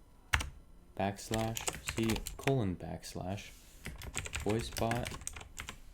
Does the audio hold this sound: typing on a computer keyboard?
yes